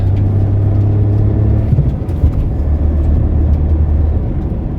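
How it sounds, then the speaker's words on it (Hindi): A car pulls away hard after a throttle body cleaning, and its engine gives a loud, close roar with low rumbling drone and road noise inside the cabin. The sound holds steady throughout, with no one speaking. "अभी देखो कार कैसे भगती है, 80 कैसे चढ़ती है"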